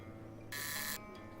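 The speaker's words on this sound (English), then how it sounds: "A buzzer." A door buzzer in the video game Shardlight gives one harsh electric buzz lasting about half a second, loud and close, then cuts off abruptly.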